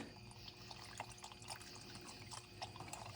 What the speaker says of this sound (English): You got her loose, it's dripping out